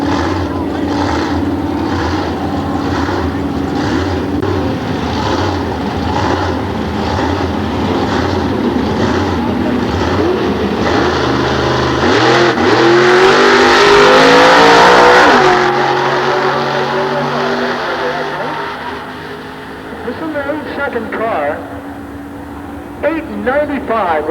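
A blown 390 cubic inch Chevrolet drag car at a 1993 nostalgia drag meet at Sears Point roars loudly, its engine note climbing and surging into a full-throttle pass before fading, with an announcer talking over it.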